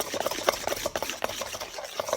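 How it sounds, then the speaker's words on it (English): Slime glue being stirred in a bowl, a quiet run of soft, repeated wet scraping strokes at close range with no talking. "Just stir the glue."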